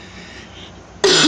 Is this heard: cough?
yes